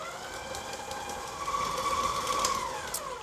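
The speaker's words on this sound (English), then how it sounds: "now to the mixer, we're gonna add our sugar, and we're gonna beat this on medium until fluffy" An electric mixer runs steadily on medium speed beating butter and sugar for Linzer cookies, a continuous whirring hum with faint fluctuations and a few light clicks.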